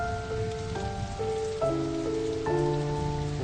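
A driving rain downpour hisses steadily throughout, a dense wash of falling water beneath sustained musical chords that shift every second or so, with no voices.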